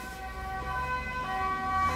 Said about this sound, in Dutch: Ik hoor een hoop sirenes.